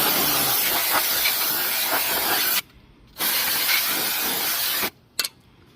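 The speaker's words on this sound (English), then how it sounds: "get my brake spray." Two long, loud hissing bursts of brake cleaner aerosol spray on a Honda Accord's brakes, each a few seconds, separated by a brief pause, with a short final puff at the end.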